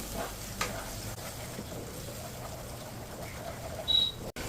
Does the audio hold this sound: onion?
yes